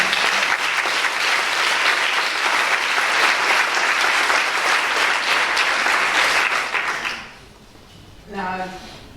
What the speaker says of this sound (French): Je voudrais aussi, s'il vous plaît, qu'on les applaudisse